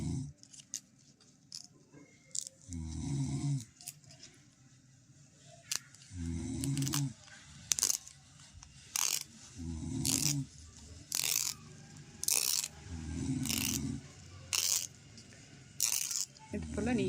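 Scissors cutting palm leaves into pieces of equal size, a series of short, crisp snips repeating at a steady pace, close and fairly loud, with low voice-like bursts between the cuts.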